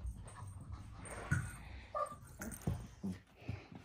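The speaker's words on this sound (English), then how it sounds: "His dog breed is a Papillon" A Papillon puppy whimpers and yips in short, faint bursts against a low, steady background hum, with no voices.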